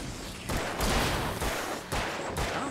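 Gunshots from the video game Alan Wake, several loud broadband blasts spaced roughly half a second apart, each followed by a short noisy decay, with no talk over them.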